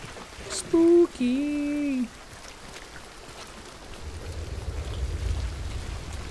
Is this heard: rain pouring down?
yes